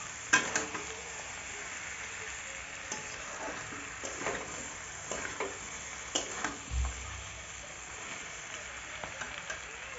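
Country chicken curry being sautéed and stirred in a pan, with a soft, steady sizzle under repeated spatula scrapes and knocks against the pan.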